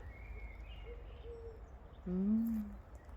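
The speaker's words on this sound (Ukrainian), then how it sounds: "Там сидять якісь птахи." Birds perched in a flowering jasmine tree give a few soft, faint calls, ending in a louder cooing note near the close over quiet outdoor background.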